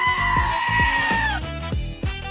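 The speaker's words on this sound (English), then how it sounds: "It's goat." A goat bleats loudly and close up in a quick run of wavering, nasal cries, one drawn out longer than the rest.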